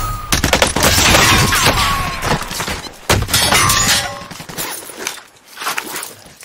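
Gunfire in the Warzone video game erupts in loud, dense rapid bursts with sharp cracks and shattering impacts, easing off toward the end.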